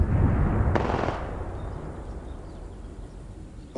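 Gunfire in a shooter video game: a burst of loud, close shots at the start with a sharp crack, then fading into a lingering rumble and low background noise, no voices.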